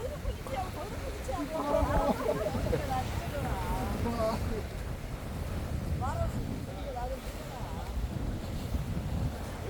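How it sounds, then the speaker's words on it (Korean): Blustery wind buffets the microphone over the wash of ocean waves at Daewangam Park on the Ulsan coast, with occasional faint voices in the background. "자연 바람 소리하고 파도 소리 들릴 거예요."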